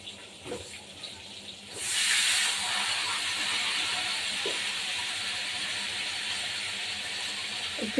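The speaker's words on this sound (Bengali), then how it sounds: "এবার আলু কলাগুলো একটু তেল দিয়ে ভেজে নিচ্ছি তেল গরম হয়ে গেছে দিয়ে দিলাম" Potatoes and plantains are dropped into hot oil, starting a steady hiss after a couple of quiet seconds; the hiss holds evenly to the end, close, with a few faint knocks and no talking.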